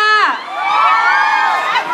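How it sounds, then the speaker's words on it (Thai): Fans at a Thai shop event let out a loud, sustained burst of high-pitched screaming and cheering that swells, dips briefly and rises again, with no talk over it. "เสียงกรี๊ดพี่ๆหนึ่งรอบค่ะ"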